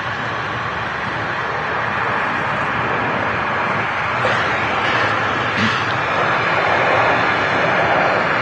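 An airliner passes at Manchester Airport with a loud, steady roaring engine rumble that holds throughout and swells slightly toward the end, with no voices heard.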